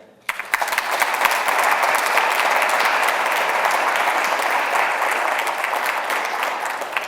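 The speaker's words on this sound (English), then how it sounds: "Please join me in giving a good round of applause to Frank Lindh." Applause from an audience in San Anselmo greets Frank Lindh, bursting in after a brief quiet moment and then holding as a full, loud, sustained roll of clapping.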